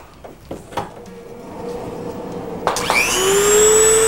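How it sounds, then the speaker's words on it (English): After some faint handling noises, a Dremel rotary tool spins up with a rising whine and grinds steadily at close range while flattening the base of a reproduction steelhead fish fin. "I'll take the Dremel tool and just flatten off an area."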